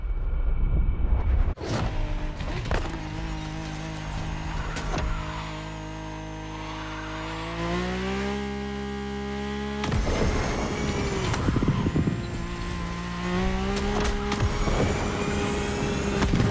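Mercedes-AMG One hypercar engine in The Crew Motorfest, a loud steady roar with rising and falling pitch across gear changes, abrupt shifts near the start and midway, no talking.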